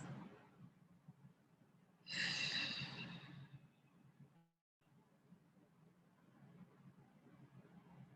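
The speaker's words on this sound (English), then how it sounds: "Three more deep breaths." Deep, slow breaths during a vinyasa yoga flow, with a loud, airy exhale surging for about two seconds over soft room ambience, then quieter breathing continuing alone.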